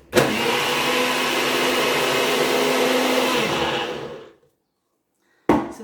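A blender pulses strawberries into a foam, giving a loud, close whirring motor roar for about four seconds that winds down to silence, followed by a brief knock at the end.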